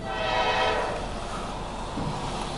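A mixed freight train led by two locomotives rolls past close by, a loud continuous rumble and rail roar with a horn tone blended in early and steady wheel noise throughout.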